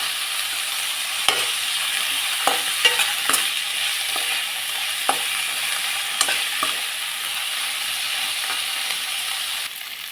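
Tomato and tamarind frying in a pan for masala sambar, giving a steady close hiss and sizzle broken by occasional scraping and stirring taps, with no voices.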